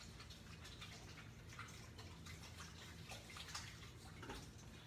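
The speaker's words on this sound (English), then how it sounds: "All right, let me rinse my hands because" Tap water runs steadily into a kitchen sink as hands are rinsed, a soft continuous splash with small bursts of spattering, heard alone without talk.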